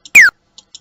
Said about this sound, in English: sort of like a laser sound there.